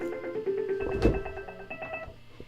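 A telephone rings on a radio call-in line during a gospel music evening show, repeated electronic ringing tones with a brief thump partway through, moderately loud over faint background noise.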